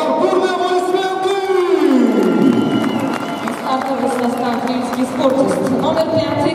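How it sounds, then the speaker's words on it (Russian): A basketball arena crowd at a FIBA Europe Cup game between BC Enisey and Rilski Sportist claps and cheers loudly through the starting lineup introductions, with a sweeping musical tone and a steady roar of crowd noise throughout. "Бурные аплодисменты!"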